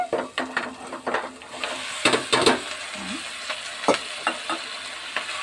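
Boiled corn kernels, Telangana-style makka gudaalu, are stirred in a pan, with irregular close scraping strokes of a spoon against metal over a faint sizzle and no talking.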